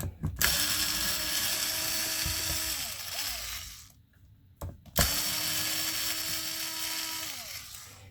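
A power driver whirs on and off removing the rear bumper screws of a Traxxas Maxx 4S RC car, two long buzzing runs that wind down, separated by a brief pause with small clicks, close and mechanical.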